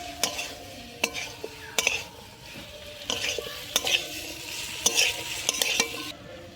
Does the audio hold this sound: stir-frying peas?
yes